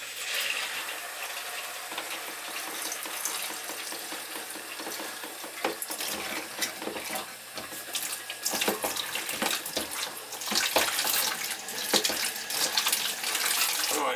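Water running and splashing into a sink drain backed up with slime, a steady rushing flow that turns choppier and louder partway through, with gurgling bursts.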